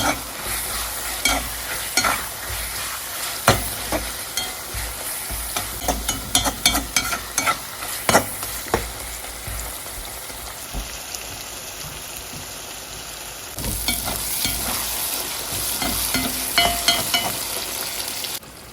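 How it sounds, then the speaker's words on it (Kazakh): Sliced sausage sizzles steadily in a pan, with frequent scraping and clattering of a utensil stirring, close and continuous. "Оны да бір 5 минуттай қуырып аламыз."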